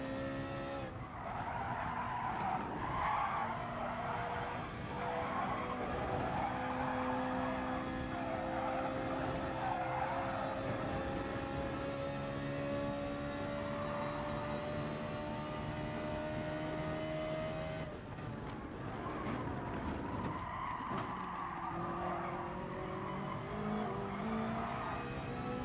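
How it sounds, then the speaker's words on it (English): In GT Sport, rear tyres squeal and skid as a car drifts through corners, a sustained loud screech over the racing engine with steady tonal whine, briefly easing near the end before resuming. "as soon as you got a bit of rear tyre life, the rears just start drifting."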